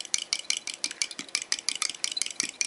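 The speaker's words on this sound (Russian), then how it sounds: "Взбалтываю их вилкой." A fork whisks three eggs in a glass, a rapid steady clicking and scraping with a regular beat, close and loud, with no talking.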